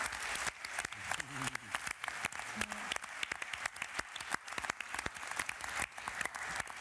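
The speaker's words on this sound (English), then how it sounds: "I think we should all give a big round of applause to our" Applause from an audience at an evening Pecha Kucha-style presentation night, a dense steady patter of many hands clapping throughout, fairly close, with a few faint voices underneath.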